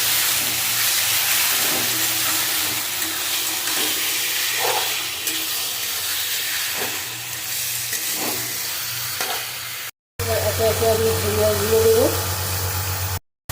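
Elephant foot yam stalks with salt are stirred in a sizzling pan, a steady frying hiss with soft scraping strokes, close and continuous, ending with a brief louder clatter.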